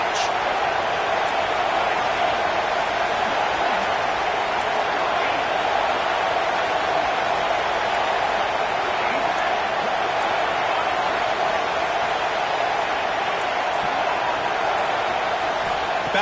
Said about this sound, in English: Third down play in the red zone, and this crowd is at fever pitch.